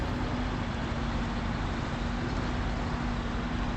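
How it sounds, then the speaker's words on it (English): A truck engine strains hard while climbing uphill in the Snowrunner video game, Michigan hard mode: a steady, dense, loud roar with a constant droning tone, close and unbroken, with no talk over it. "Well, you can hear the engine screaming right now."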